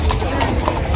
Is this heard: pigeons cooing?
no